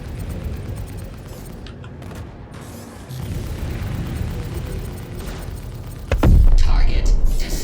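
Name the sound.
target destroyed in space combat, Star Citizen video game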